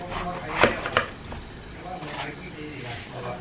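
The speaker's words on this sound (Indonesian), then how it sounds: "Ini kita iris semua aja guys." Knife slicing through old, shriveled apples for juice: a couple of sharp close cuts near the start, then softer scattered kitchen sounds, fairly faint with a quiet room background.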